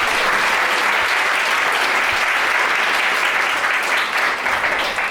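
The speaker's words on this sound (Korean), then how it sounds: "큰 박수로 환영해 주시기 바랍니다." Guests applaud loudly at a church wedding ceremony in Sejong as the officiating pastor is welcomed; a dense, sustained wall of clapping from a large crowd, even and continuous.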